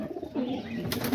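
Pigeons cooing nearby in a backyard loft, a low throaty coo rolling through the clip with a soft flutter of other birds, no talk over it.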